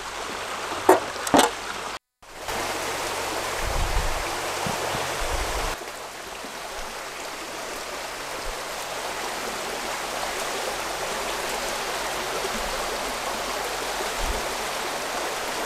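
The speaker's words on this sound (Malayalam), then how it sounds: "അപ്പോൾ നമ്മുടെ വാട്ടർ മില്ല് റെഡി ആയിട്ടുണ്ട്." Stream water pours steadily past a small homemade watermill beside a creek, a continuous close rushing wash after a few brief knocks and a short dropout near the start, with no talking.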